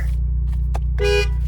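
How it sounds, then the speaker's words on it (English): A 2024 Ford Mustang EcoBoost Convertible sounds one short, clear horn blast of about a quarter second inside a quiet cabin, preceded by faint clicks. "There's the horn."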